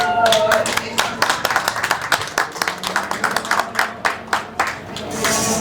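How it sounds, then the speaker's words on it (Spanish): An audience claps through a talk about the history and mysteries of Guadalajara as guests are introduced one by one, the applause coming in uneven bursts of close, sharp hand claps with a sustained roar at the start and end. "Voy a ir presentándolos un poquito para que les vayan regalando un aplauso"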